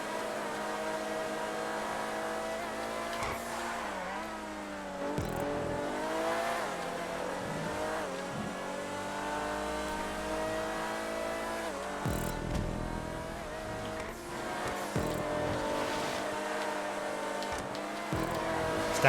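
Vagner and Voltic supercars racing in GTA 5, a dense, continuous engine roar with rising and falling revs and gear shifts, several cars close together, loud throughout with no talking.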